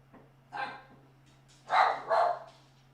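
A pet dog indoors gives three sharp barks, one short and then two louder ones close together, with a faint low hum underneath.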